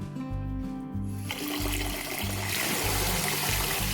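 Water pours steadily from a tap into a pot to rinse berries, a continuous close splashing trickle with a low tonal hum beneath and no talk.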